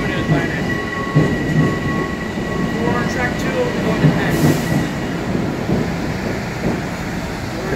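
An MTA Long Island Rail Road M3 commuter train, not in service, rolls past nearby at Jamaica with a continuous rumble, rhythmic wheel clatter and a faint metallic squeal, with a voice talking briefly underneath.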